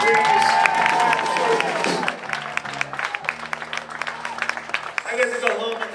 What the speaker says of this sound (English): One more round of applause for Jackson, please.